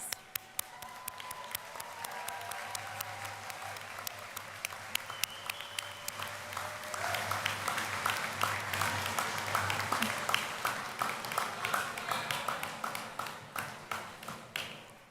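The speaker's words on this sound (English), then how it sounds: "give them a round of applause" A large crowd at a university convocation ceremony claps steadily for a long stretch, the applause swelling midway and then slowly thinning out.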